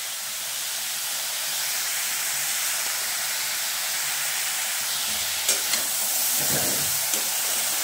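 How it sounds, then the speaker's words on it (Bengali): Brinjal pieces frying and being stirred in a pan, a steady close sizzle and hiss with a few scraping stirs near the end, no talk. "ওই বেগুনগুলো দিয়ে ভাজা ভাজা হবে"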